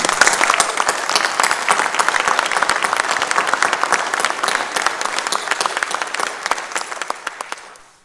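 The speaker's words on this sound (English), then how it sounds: "So how about if we give him a big round of applause?" Audience in a church gives a sustained round of applause for Howard, dense steady clapping from many hands that holds for several seconds, then thins out and fades to a few last claps at the end.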